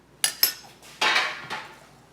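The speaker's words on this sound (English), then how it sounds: "Let me get this pan out of here." A pan is handled and moved in a kitchen, giving two sharp metallic clanks close together, then a louder scraping clatter and a softer knock, all close and with no talking.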